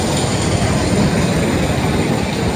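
Roller coaster train rumbling at Six Flags Great Adventure near the Nitro coaster, a steady loud broadband roar of wheels on track that holds constant throughout with no pauses.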